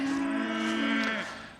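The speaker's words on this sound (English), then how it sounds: "Come on, cows. Come on, cows. Let's go." Mini Hereford cattle on a farm give one long, close moo that holds steady and then fades away toward the end.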